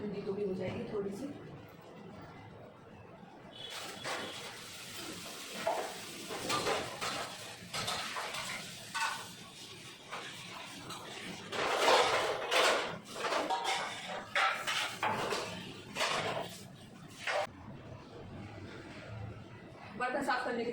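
Pots, pans and utensils clatter and clink during dishwashing in a home kitchen, intermittent knocks and metallic rattles that grow busier midway, with a voice heard at times.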